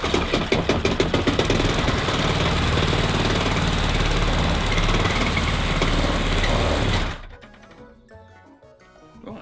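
An old lawnmower engine, restored after five years abandoned in bushes, runs loud and close with a rapid, rough firing chatter for about seven seconds, then cuts out abruptly, leaving a quiet rattle and faint background noise.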